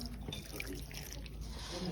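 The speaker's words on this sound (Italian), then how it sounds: "Sto lavando la biancheria nella pila" Water splashes and drips as laundry is washed by hand in a stone sink, with soft sloshing and trickling close by at low level, no talk.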